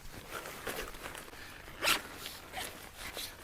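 A zipper on a USMC bivy sack, part of a two-zipper system, being pulled open nearby, one quick bright zip standing out against soft handling noise.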